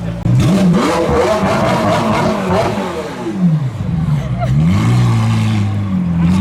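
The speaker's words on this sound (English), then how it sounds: "So this 720S has been revving. Oh, he's leaving." A McLaren 720S sports car with a custom exhaust revs hard, the engine pitch rising and falling in loud surges, then pulls away with a roaring exhaust close by.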